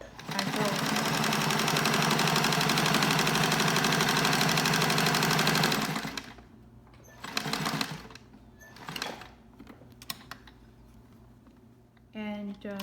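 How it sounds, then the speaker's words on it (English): A sewing machine stitches a fabric mask in a loud, rapid, even run for about six seconds, then stops, followed by a few short bursts of stitching and handling noise. "so when you sew, you have to make sure every line is aligned like this."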